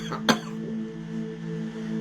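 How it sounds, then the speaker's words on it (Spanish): One sharp, close cough from a man with a lingering, itchy cough bursts out abruptly, followed by a quiet steady hum with no speech. "Ya me vino la tos."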